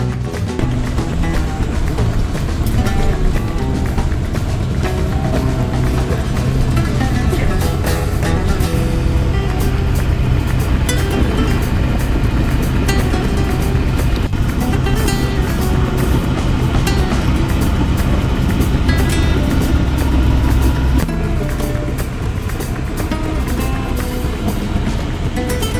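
Riding an NJ Transit bus through the Lincoln Tunnel gives a loud, steady, droning rumble of engine and road noise that lasts throughout, enclosed and continuous, with no voices.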